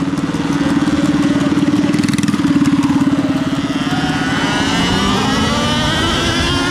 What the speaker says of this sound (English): Here's some pit bikes.